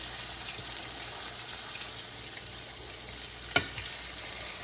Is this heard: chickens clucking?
no